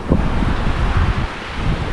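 Sea waves wash onto a black-sand beach at a resort in Sariaya, Quezon, heard as a steady broadband surf roar that is heavily overlaid by buffeting wind noise on the microphone, with no speech.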